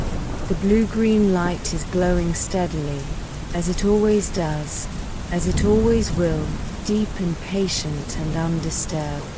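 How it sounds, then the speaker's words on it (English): Steady Minecraft rain patters on a roof as a soft, even hiss throughout, beneath a calm voice narrating a bedtime story. "This is the sound of rain on a roof in a world made of blocks and care and time."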